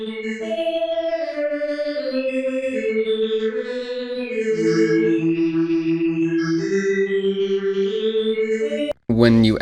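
An FL Studio synth runs with chorus and hyper dimension effects, its filter modulation macro switched off, playing a sustained, shimmering chord line that shifts pitch steadily, loud and alone, cutting off briefly near the end.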